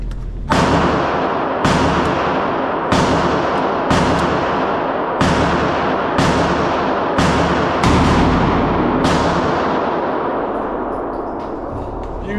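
Gunshots fired at an outdoor gun range, about nine loud, sharp reports spaced roughly one to two seconds apart, each with a short decaying tail. No voices are heard between the shots.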